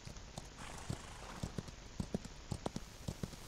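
Donkey hooves clip-clop at a steady walking pace in the video game Outlaws of the Old West, a run of light, distinct knocks over a soft ambient background with no talk.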